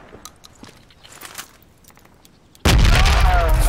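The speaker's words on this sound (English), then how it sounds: "Yeah, they got me with a frag." A frag grenade blows up in the tactical shooter Project Reality: a sudden, loud, close blast cuts through faint scattered distant gunfire and rolls into a sustained heavy roar.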